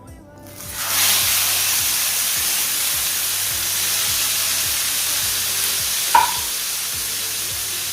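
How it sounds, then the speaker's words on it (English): Kingfish pieces laid into a hot pan for a fry, giving a loud steady sizzle that swells within the first second and holds, with a brief sharp clink near the end. "Pan is nice and hot, so let's go and place the fish"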